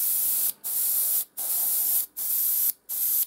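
Aerosol spray paint applied in light coats onto a Sector Mechanicus crane model, tested first on cardboard: four steady hissing bursts of about half a second to a second each, separated by short pauses, close and loud.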